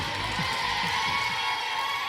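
Audience cheering for the red team at an obstacle-course game show event, a dense continuous wash of crowd shouting and whooping with applause, loud and even throughout.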